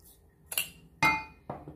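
A dish or glass clinks three times in quick succession while brown vinegar and sugar are being mixed, sharp close taps against a quiet background.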